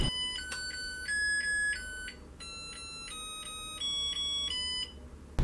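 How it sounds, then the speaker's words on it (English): A Zojirushi rice cooker plays its finish melody, a sequence of clear electronic tones in stepped phrases over a steady low hum, moderately loud and close, with no talking. "And when the rice cooker finishes, the music plays again."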